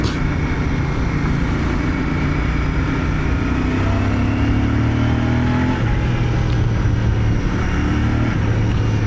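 Royal Enfield Bear 650 twin-cylinder scrambler motorcycle on the move, with a steady, loud engine drone and smooth shifts in pitch as the bike accelerates and changes gear, mixed with wind rush and no talking.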